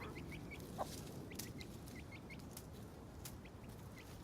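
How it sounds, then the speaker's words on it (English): Soft, scattered clucks from a rooster with short chirpy calls repeating throughout, set against a steady low outdoor rumble. "Here's another one of our roosters."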